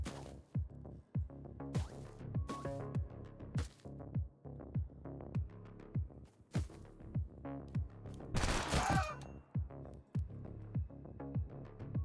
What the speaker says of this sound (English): Ionic Hound is chilling inland, both low health and rocking assault rifles.